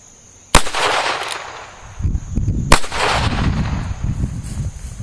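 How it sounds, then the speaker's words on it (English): Two loud, sharp shots from a Cimarron Frontier .45 Long Colt single-action revolver, about two seconds apart. Each crack leaves a long, rumbling echo. "45 long Colt, single action."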